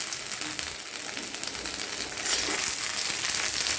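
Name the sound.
fenugreek and chopped ginger sizzling in hot oil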